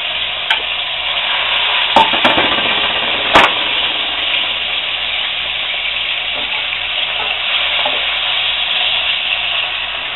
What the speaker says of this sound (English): I'm going to add my onions and peppers